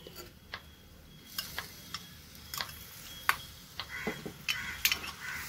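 Anchovies are stirred into sautéed onions in a pan, a faint sizzle under a close series of light, irregular clicks and scrapes from the stirring spoon.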